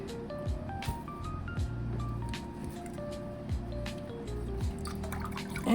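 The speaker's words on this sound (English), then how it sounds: "And the water ran through it." Water dripping and trickling steadily through a potted ZZ plant's drainage, with scattered drops and a soft gurgling flow, close by.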